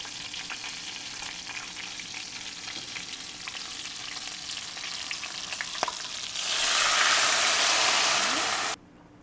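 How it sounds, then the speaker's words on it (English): Meatballs sizzle steadily in a hot pan, then beef broth pours in and the sound swells into a louder, brighter hiss and bubbling for a couple of seconds before cutting off. "So I'm gonna add 2 cups of beef broth."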